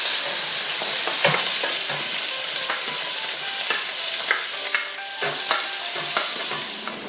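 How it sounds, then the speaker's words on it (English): A sautéed mixture hits hot olive oil in a pot for chili spaghetti, giving a loud, dense continuous sizzle with crackling pops and scraping stirs throughout, close up and without speech. "grab your sautéed mixture, and then just start dumping it into the pot"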